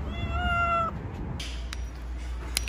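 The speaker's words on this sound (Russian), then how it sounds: "Короче, кошка выдергивается." Cat meowing at a veterinary animal hospital before vaccination: a drawn-out, rising-and-falling meow close to the microphone, then clinic background noise with small clicks and thumps.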